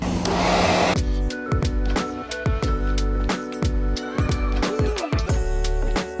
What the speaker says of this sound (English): Okay, now just apply a little bit of heat to seal this edge right here.